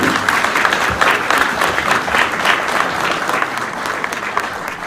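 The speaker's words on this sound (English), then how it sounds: "can we give them another round of applause?" Steady, loud audience applause fills a board of education meeting room, a dense continuous clatter of many hands lasting several seconds.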